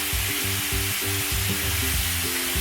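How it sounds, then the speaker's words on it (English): Bacon cooking in a pan gives a steady, close crackling sizzle throughout with no talk over it, a dense hiss with faint rhythmic stirring or scraping underneath. "so our bacon is cooking"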